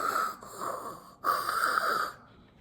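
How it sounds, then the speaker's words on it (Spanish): Cartoon bear snoring in a cave: two long, raspy, wheezing snores, loud and close, with a brief pause between them. "Pero el oso no para de roncar."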